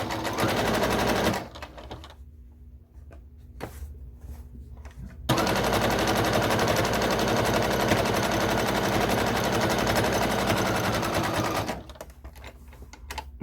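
A sewing machine stitching terry cloth for reusable sponges runs loud and steady, pauses briefly with a few clicks, then resumes a long continuous whir before slowing near the end.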